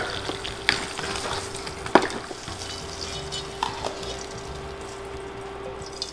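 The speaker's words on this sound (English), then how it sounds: "this is the time you start shaking the pan" A covered pot of popcorn, a third of a cup of kernels, is shaken on the stove, giving scattered pops and a few sharp knocks over a soft, steady frying hiss.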